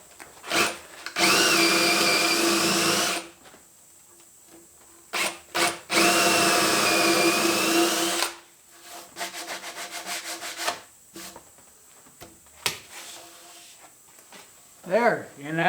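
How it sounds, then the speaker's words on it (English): A power drill bores into a log handrail in two loud sustained bursts of several seconds each, with brief pauses, followed by quieter clicks and handling noise and some speech near the end. "Now that all the holes are drilled, it's ready for being treated in boron."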